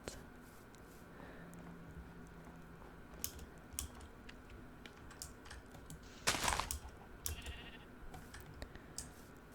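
Faint sheep bleats from Minecraft come through alongside soft computer keyboard tapping and quiet clicks, with one louder burst partway through in a hushed setting.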